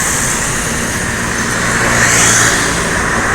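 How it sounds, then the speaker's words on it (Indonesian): An intercity bus from West Sumatra passing on a road, a loud steady engine roar with broad road noise that swells slightly as it comes closest, with no talking. "Nah, ini ada unit bus lagi ya, bus"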